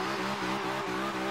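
BMW drag car in the video game Forza Horizon 2 held at launch revs, a loud, steady, buzzing engine drone with a slight rise in pitch over a brief moment.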